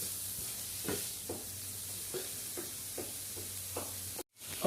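Onions and tomato sautéing in a pan for chicken curry, a quiet steady sizzle with regular soft stirring knocks, then a brief cut to silence near the end.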